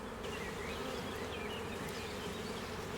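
Honeybees crowd a frame of fresh nectar at an apiary in Italy, their buzzing a dense, steady drone that holds evenly from start to finish with no voices.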